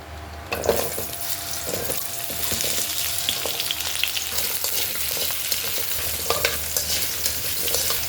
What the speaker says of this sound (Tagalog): Prito muna natin kunti yung patatas at saka carrots.